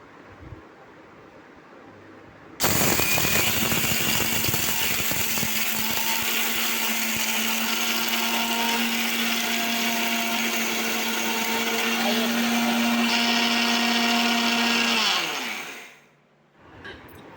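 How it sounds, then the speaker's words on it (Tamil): A mixer grinder pulverises roasted urad dal with spices and asafoetida into a dry powder. The loud, steady whirring roar starts abruptly, runs for about thirteen seconds and then winds down to a stop. "இப்போ இது எல்லாத்தையுமே அரைச்சி எடுத்துகிட்டு வந்துடலாம்"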